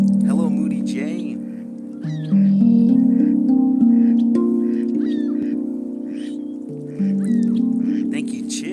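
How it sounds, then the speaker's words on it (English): Geese and ducks on open water, joined by seagulls, honk and quack loudly and close by in an almost unbroken, overlapping chorus of calls. "Geese, ducks, seagulls, all around me."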